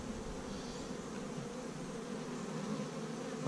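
Honeybees buzzing around an open hive during an inspection, a steady, even drone of many insects filling the air, moderately quiet and without talk.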